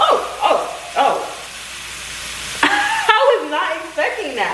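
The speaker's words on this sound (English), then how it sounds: "Okay guys, it's sizzling." Food frying in a pan at home, a steady sizzle with bursts of crackling and spattering, close and fairly loud, with a few stirring or scraping sounds and no talk.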